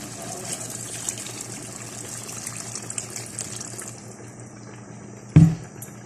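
Water runs steadily into a pot of chicken and bottle gourd curry, a continuous gushing pour, ending with a brief clunk near the end.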